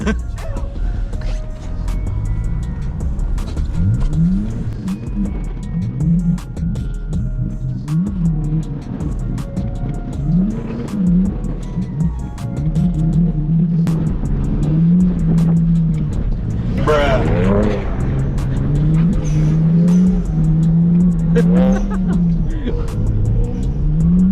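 Cars drifting and spinning out on fresh snow, including a Volkswagen: engines rev and wail up and down in repeated surges, close and loud, while people talk and shout over the driving.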